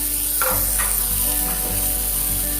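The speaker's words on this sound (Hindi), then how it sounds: "मैं इसमें मेरा जो कटा हुआ अनियन है वो डाल दूंगी, साथ ही साथ अदरक और हरी मिर्ची में डाल दूंगी" Chopped onion, ginger and green chili sizzle loudly in a pan, a dense constant hiss with a few brief scraping strokes near the start.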